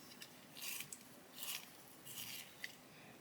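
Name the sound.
sharpening a colouring pencil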